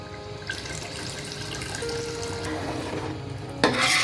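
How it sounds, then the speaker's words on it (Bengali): Hot water goes into a pot of simmering beef with oil risen to the surface. A watery, gurgling rush sits over a low bubbling background, and a sharper splash comes at the end. No talking. "দিয়ে দিচ্ছি পানি।"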